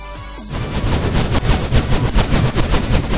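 A Movecraft fire gun in Minecraft loosing fireballs at a ship: after a brief lead-in, a loud, dense rapid-fire stream of crackling, popping bursts that runs on without a pause.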